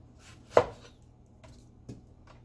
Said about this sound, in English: And then just cut this in half.